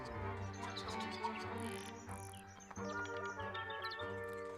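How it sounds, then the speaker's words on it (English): Birdsong in the mystery video game Tangle Tower, a few faint chirps and tweets set against steady game music. "Like, I hear a bird right now."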